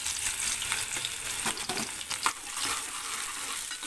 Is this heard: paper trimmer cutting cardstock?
no